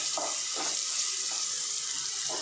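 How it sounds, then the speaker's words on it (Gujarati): Onions sautéing in a pan until golden brown, a steady bright sizzle of frying with a few soft stirring scrapes, close and continuous with no talk. "ગોલ્ડન બ્રાઉન થાય ત્યાં સુધી સાંતળી લઈશું એને"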